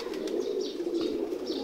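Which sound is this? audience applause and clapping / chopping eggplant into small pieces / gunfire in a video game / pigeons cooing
pigeons cooing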